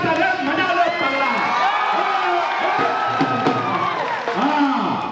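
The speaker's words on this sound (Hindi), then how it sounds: "देखो जोरदार तालियां मजा लो पगला" A crowd claps and cheers loudly at a Bhojpuri film event, with whoops and shouts rising over continuous dense applause from start to finish.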